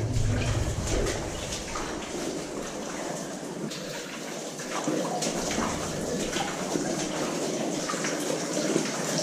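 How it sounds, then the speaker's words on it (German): Water runs and trickles continuously inside an abandoned mine tunnel, a steady, fairly faint wash of flowing water with occasional drips and no voices. "Aber es kommt ja sehr viel Wasser hier unten an."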